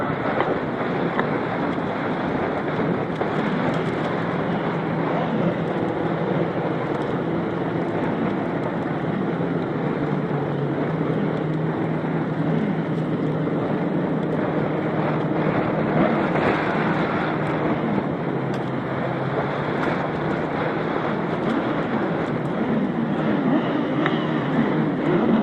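Sidecar outfits at a grasstrack race meeting roar continuously as a dense, loud engine drone mixed with wind buffeting on the microphone, sustained throughout without pause.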